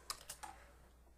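A few quick keystrokes on a computer keyboard while entering an image address into Codepen, three soft taps close together, then quiet.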